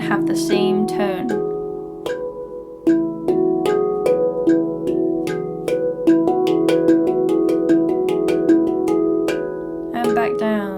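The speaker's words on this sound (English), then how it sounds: "Making sure the strikes between the thumb and the finger all sound equal and have the same tone." A handpan is struck in steady single strokes alternating thumb and finger, each note ringing clearly with a metallic resonant tone in an even rhythm, close and distinct, with a brief flurry at the start and end.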